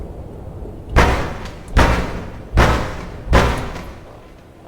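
Four heavy, evenly spaced knocks thud against a door in a video game, each loud, booming hit ringing out briefly before the next.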